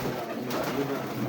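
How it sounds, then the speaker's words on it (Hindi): Pigeon cooing inside a breeding loft in Gujranwala, a strong, full-colored male bird producing soft, continuous low coos close by, steady throughout a brief moment. "बड़ा तगड़ा कबूतर है यार।"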